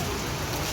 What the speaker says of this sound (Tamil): மழை வந்துச்சு மக்களே